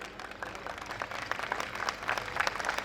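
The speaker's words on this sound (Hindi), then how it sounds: "वो धड़कते दिलों वाली तालियां दे करके मुझे आभास दिलाइए कि मैं श्रृंगार पढ़ूं यहाँ पर" Audience applause at a Hindi comedy poetry gathering in Rajnandgaon, a steady wash of many clapping hands with scattered sharper claps, moderately loud and continuous throughout.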